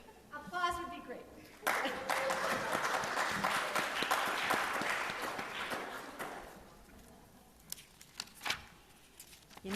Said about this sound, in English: Applause would be great.